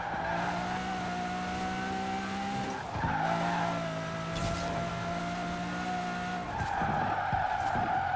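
A rear-wheel-drive car in Forza Horizon 4 loses rear grip, its tires squealing in long sustained skids over a droning engine, with brief breaks as the slides stop and restart.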